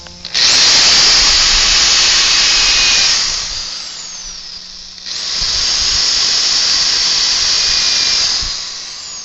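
A power drill whines at high speed as it drives through wood pieces for a homemade snowboard box, in two long bursts with a short dip in between.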